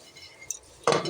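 A whistle weight is set onto a pressure cooker boiling tomato rice, giving one brief metallic clink near the end of an otherwise quiet moment.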